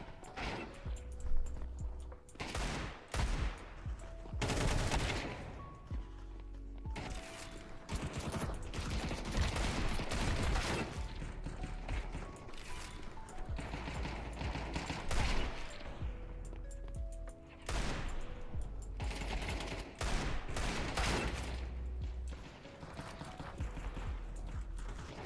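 Counter-Strike gunfire: rapid bursts and repeated loud shots with clanking weapon mechanics and impacts, dense and continuous over the whole stretch, no talking.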